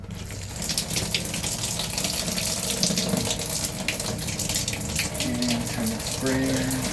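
Running water from a sink sprayer in a 2019 Micro Lite camper, a steady broadband hiss and splash that continues throughout at close range, with a low hum and faint tonal squeaks near the end.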